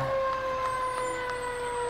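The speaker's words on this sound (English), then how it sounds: "taking a ride on our very own Tracy Fire Department's fire truck" A Tracy Fire Department fire truck, engine number 91, sounds its siren during a holiday parade, a steady wailing tone carrying clearly and loudly throughout.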